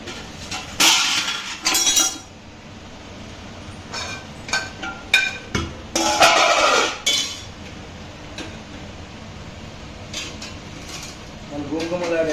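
A metal lid set back onto a cooking pot of Telugu buttermilk stew (majjiga pulusu), a run of sharp clinks and clatters near and loud, with quieter taps and a short voiced sound near the end.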